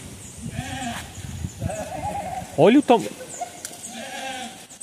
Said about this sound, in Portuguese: Achei um bode ali, hein? Tá chamando.